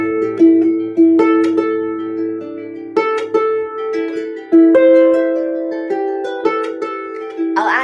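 A solo harp plays a melody in compound time, leaning on the downbeat. Plucked notes ring out, and regular stronger accents fall on the downbeats. The sound is close, clear and fairly loud, with no talking.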